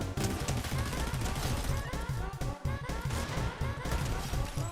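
Gunfire in the video game Fortnite, rapid bursts of shots cracking in an uneven rhythm throughout, loud and dense, with a brief gap midway and a voice talking over part of it.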